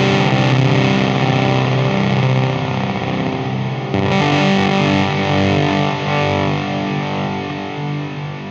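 Electric guitar through an EarthQuaker Dirt Transmitter fuzz pedal with an Afterneath reverb engaged, heard alone as a thick, saturated, sustained wall of distortion with swelling reverb pads that keeps building throughout.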